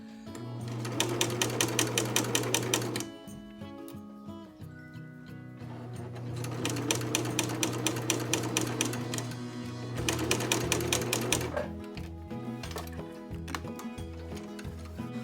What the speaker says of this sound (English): I stitched at the very edge of the fabric